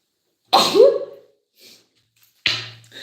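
A person sneezes twice, close and loud: a sharp first burst with a short trailing breath, then a second sneeze about two seconds later, with no talking around them.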